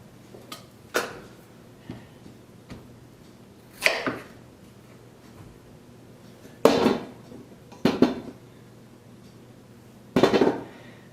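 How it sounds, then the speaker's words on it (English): Knife slicing potatoes in half on a cutting board for pierogi filling, a handful of sharp separate chops spaced a few seconds apart, close and fairly loud, with faint clicks between them. "I want to now chop the potatoes, or at least cut them in half, the larger ones"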